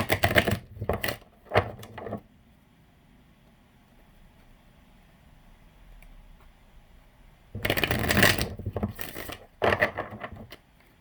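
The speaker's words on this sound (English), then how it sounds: "I'm going to shuffle this a couple more times." Tarot cards shuffled by hand in quick riffling bursts, one cluster near the start and another later, close and crisp, with near silence between.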